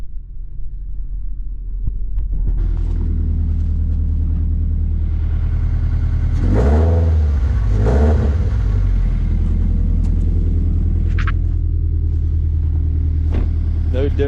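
A car engine fitted with an Injen aftermarket intake rumbles at idle, then revs up sharply twice in quick succession before settling back, loud and close, with a voice talking over parts of it.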